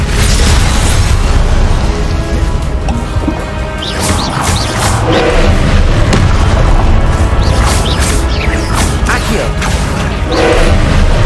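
Spell blasts and explosions from the Confringo fire spell in Hogwarts Legacy come as repeated booms and crashes within a loud, dense game soundscape, with a spoken spell name breaking in now and then.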